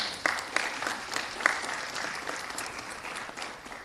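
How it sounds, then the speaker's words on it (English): Audience applause at a mayor's press conference, a moderate wash of many hands clapping with a few sharper claps standing out, fairly distant and steady throughout. "Give them a round of applause, everyone."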